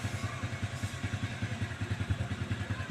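A Yamaha XT 125 motorcycle engine with a knocking fault idles close by, a rapid, regular tapping knock pulsing over its low mechanical drone.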